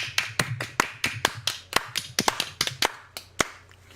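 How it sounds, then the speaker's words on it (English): Sparse clapping from one or a few pairs of hands, crisp sharp claps at an uneven pace, close by, slowing and thinning toward the end. "Round of applause."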